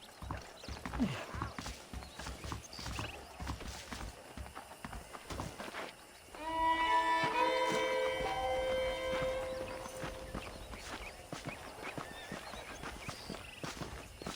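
Horse hooves clip-clopping at a steady walking rhythm in the video game Red Dead Redemption, joined midway by a bright chiming musical tone and a whinny, game-like and close.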